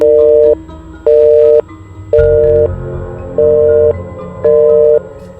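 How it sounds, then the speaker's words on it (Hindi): Telephone call tone playing loud over a speakerphone while the number fails to connect, a repeating pattern of steady beeps about half a second long separated by short pauses. "अरे खुद ही सुन लो, फोन स्पीकर पे डाले हैं।"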